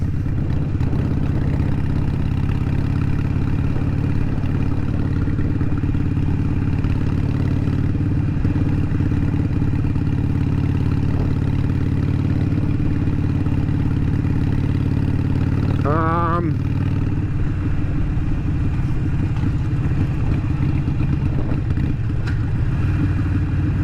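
A Harley-Davidson SuperLow motorcycle with Vance & Hines Shortshots exhaust idles steadily with a deep, throaty exhaust rumble that holds unbroken throughout, with a brief mechanical squeal partway through.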